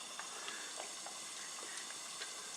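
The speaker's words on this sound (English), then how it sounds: "So you see it frying away in there." Raw chicken frying in a pan gives a faint, steady sizzling hiss dotted with small crackles and pops.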